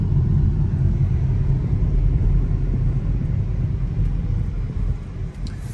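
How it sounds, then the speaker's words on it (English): Steady, loud low rumble of tire and road noise inside a Polestar 2 while driving, a continuous dense drone filling the cabin with no talking. "there's a good bit of road noise that I'm hearing from the tires"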